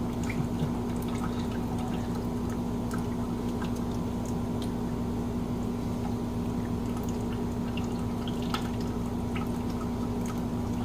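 Old fluid draining steadily from a 1958 Farmall 450 gas tractor, a continuous trickling and dripping pour that holds for about eleven seconds, with a steady hum underneath and no talk.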